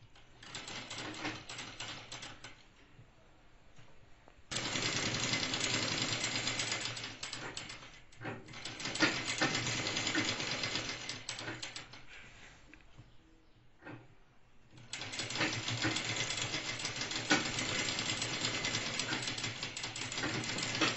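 A sewing machine stitching chudidar neck cloth whirs close by in a few long runs, with quieter gaps between them.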